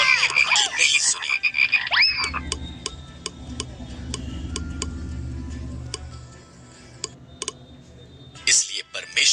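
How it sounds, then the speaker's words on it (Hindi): Frogs croak in rapid, clicking pulses in a cartoon, with a dense low croaking chorus in the middle and musical tones at the start and end. "उसने मिस्रियों के घरों को मेंढकों से भर दिया, हर तरफ मेंढक थे"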